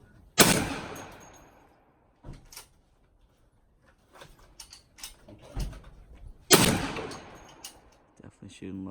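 AR rifle fired at an outdoor range: two loud, sharp gunshots several seconds apart, each with a ringing decay, with quieter clicks and handling noises between them.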